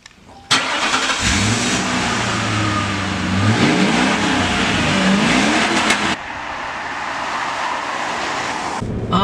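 A 350-horsepower car's engine fires up and revs hard in loud, rising and falling sweeps, close by and continuous, with no talking.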